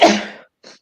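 A single loud, close human sneeze with a sharp burst that fades out, followed by a brief softer breathy sound.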